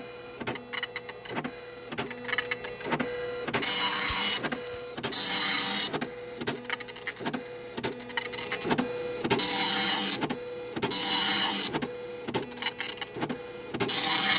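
A Citizen GSX-140 dot matrix printer prints loudly, with rapid harsh rattling bursts from the print head alternating with longer buzzing carriage sweeps in a repeating rhythm, close up, with no speech.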